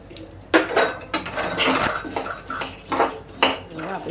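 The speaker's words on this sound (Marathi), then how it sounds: "बदाम काजू मिक्सच भाजूया." Almonds and cashews roasting together in a spoonful of ghee in a pan, with repeated sharp clatters and scrapes of a utensil against the pan at irregular intervals.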